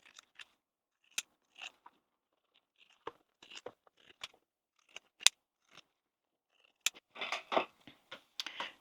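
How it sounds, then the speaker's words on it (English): Pinking shears trimming fabric seam allowance on a crossbody bag, a series of sharp, crisp snips spaced irregularly and then coming in a quicker cluster of crunchy cuts near the end, close up with no voices. "So get a pinking shears and just trim that down a little bit."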